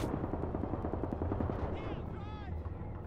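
Gunfire rattles through a Gates of Hell World War II battle in Berlin, dense and continuous, with rapid bursts layered over rumbling combat noise while a voice talks over it.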